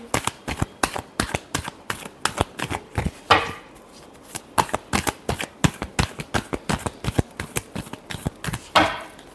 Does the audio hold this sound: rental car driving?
no